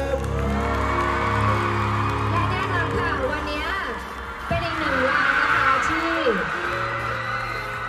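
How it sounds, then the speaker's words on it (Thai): A showcase crowd cheers and whoops steadily over loud music and amplified voices, the excited noise swelling midway and carrying on throughout. "ขอเสียงปรบมือให้ดูนิวชวดีหน่อยครับ"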